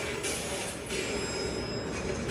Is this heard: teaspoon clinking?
no